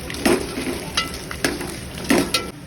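Green chillies being sautéed with ginger in a pan for a Kokani-style chicken curry, a close crackling sizzle broken by several rhythmic scraping strokes of a spatula, with no voices.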